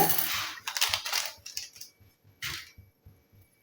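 Small hard fenugreek seeds rattle and patter into a pan in a few quick bursts, followed by scattered light clicks and faint sizzling, close up.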